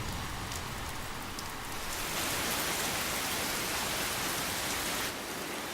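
Heavy rain pours steadily over rocky mountain ground, a dense, even hiss of downpour that swells slightly partway through and carries on without any voices.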